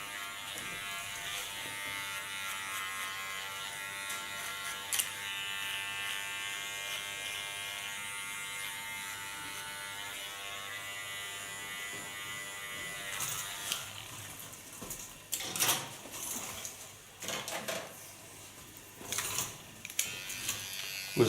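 A small electric hair clipper buzzes steadily while edging the contour of an asymmetric side-shave undercut, with a constant whine through most of the run and rougher, irregular bursts of cutting and contact noise near the end. No one talks.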